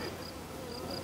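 Bees buzz faintly and continuously while being caught by hand, a thin insect drone with no talk over it.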